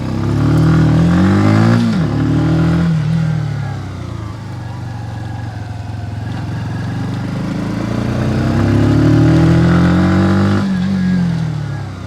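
A Sinnis Outlaw 125cc motorcycle pulls away on private land, its engine climbing through revs, dropping between gear changes and climbing again, loud and close with no talk over it.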